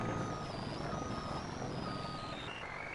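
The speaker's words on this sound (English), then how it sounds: "I love the way that truck sounds." A heavy truck engine in Farming Simulator 19 hums steadily and loud with a droning whine. The tone slowly shifts over about three seconds and nobody speaks.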